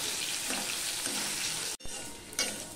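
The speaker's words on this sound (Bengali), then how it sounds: "কচুটা প্রায় ভাজা হয়ে গেছে" Besan-coated taro fries in oil in a kadai, a dense continuous sizzle with stirring scrapes, briefly cut off before resuming just as loud and close.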